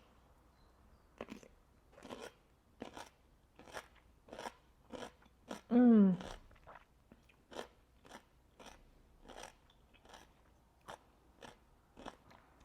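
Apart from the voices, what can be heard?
crunching pickled cucumbers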